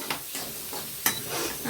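Coriander frying in a pan for a potato fry, a soft continuous sizzle with a few light scraping stirs and a small clink partway through.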